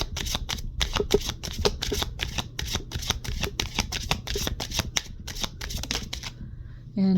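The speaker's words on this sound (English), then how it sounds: "Let's get another card for here from this deck" Healing Energy Oracle deck being shuffled by hand, a rapid rustling run of card riffles and slaps that is close and steady for about seven seconds, with no one talking, then a brief thump at the end.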